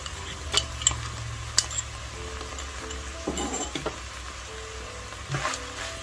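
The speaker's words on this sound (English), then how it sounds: "We're going to add the garlic now." Garlic cooks in a pan of ground beef for ravioli soup, a steady low sizzle running throughout with scattered stirring scrapes and utensil clinks against the pan, heard close with no talking.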